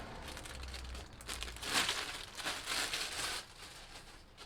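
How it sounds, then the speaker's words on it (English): Material pressed onto wet spray paint, rubbed lightly, then peeled back off, a close, soft crinkling and rustling that swells into a brief tearing peel and then settles, with no voice. "placing your material on the paint and giving a light rub, and then we'll peel it back off"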